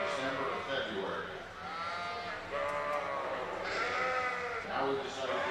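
Suffolk breeding ewes bleat repeatedly at a livestock show, several loud wavering calls in succession mixed with crowd and arena background noise.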